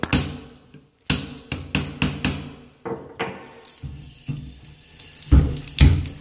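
A hammer strikes a wrench fitted onto a square shower valve to loosen it, a loud series of sharp metallic knocks in uneven rhythm, with heavier blows toward the end.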